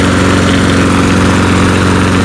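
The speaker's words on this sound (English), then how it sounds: "Mower's running fine." A YardMan lawn mower with a Honda 5.5 HP engine runs steadily at close range, a loud continuous engine drone with a fast, even firing rhythm and no talking.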